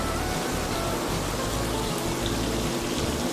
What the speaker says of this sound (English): I love to hear the fountains of the pool. Sounds like a little waterfall in my backyard.